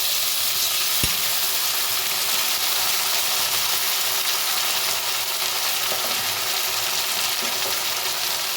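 Ginger, cumin and green chili paste frying in a pan, a steady broadband sizzle throughout with one sharp tap of a utensil near the start and faint stirring scrapes later.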